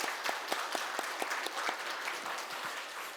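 A church congregation claps during a Sunday worship service, a steady wash of applause with some sharper individual claps standing out at a moderate distance.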